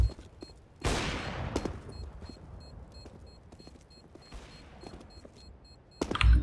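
Gunfire rings out in a CS:GO match, a sharp loud burst of shots followed by scattered quieter rounds and another close blast at the end, with no voices.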